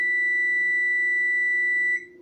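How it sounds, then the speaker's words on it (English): A kitchen timer gives one long, steady, piercing electronic beep that holds for about two seconds and then cuts off, leaving a quiet background hum. "I like this timer. It beeps when I'm done."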